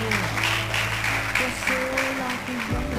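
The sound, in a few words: audience applause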